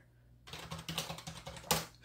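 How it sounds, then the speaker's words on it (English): Quick, uneven clatter of keys on a computer keyboard, about a dozen close, light taps with one sharper strike near the end, after a brief silent start. "I was on here typing, and I'm so used to looking at the keyboard"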